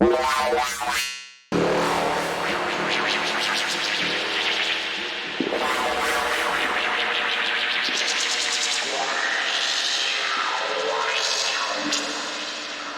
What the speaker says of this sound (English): We have this kind of froggy sound, I would say.